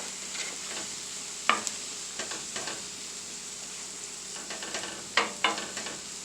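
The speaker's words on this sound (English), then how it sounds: "I'm going to stir fry the other bits of seafood into there." Seafood pieces stir-fry in a pan for a seafood paella, with a soft continuous sizzle broken by several sharp scraping clicks of a utensil against the pan.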